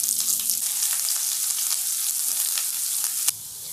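Finely chopped onion added to hot oil with bay leaves, cumin and curry leaves in a pan: a steady, bright sizzle and crackle throughout, close and continuous, with a sudden louder pop before it eases.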